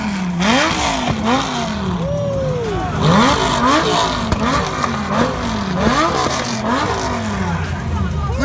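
A Lamborghini and a Dodge Hellcat rev hard again and again, with rising and falling engine pitch sweeps, close and loud, while people talk and shout underneath.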